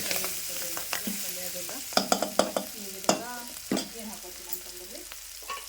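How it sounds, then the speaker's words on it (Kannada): Spinach palya being stir-fried in a pan in a home kitchen, with a soft sizzle under repeated scraping and stirring knocks of a spatula, close and fairly quiet, no talking. "ಈಗ ನೋಡ್ರಿ ಪಾಲಕ್ ಸೊಪ್ಪು ಎಲ್ಲ ಫ್ರೈ ಆಗಿದ್ರಿ ಪಲ್ಯ"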